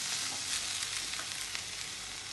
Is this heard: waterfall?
no